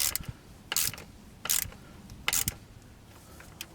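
A ratchet tightens a 10mm nut and an 8mm bolt on the fuel lift pump of an ASV PT-100, sounding as several short bursts of crisp clicking spaced under a second apart, close and clear.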